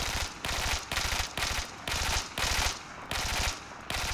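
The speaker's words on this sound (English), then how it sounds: "the problem is with this gun, it doesn't have burst fire mode, so you can't really control it unless you really tap fire" Automatic rifle fire in Battlefield 4, shot at a wall: repeated bursts of rapid shots, each burst about half a second long, separated by short gaps, loud and close with no talk.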